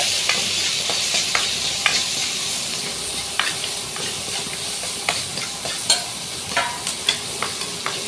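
Onions fry in a pan with a bright, continuous sizzle, while a spoon stirs and scrapes through them in repeated sharp clicks toward the end.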